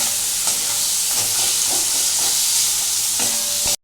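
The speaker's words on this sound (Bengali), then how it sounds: "এটাকে ভালো করে ভাজছি।" Tomato masala frying in oil for a spicy kaikka fish curry, a dense, steady sizzle up close with periodic stirring scrapes of a spatula, and no voices over it.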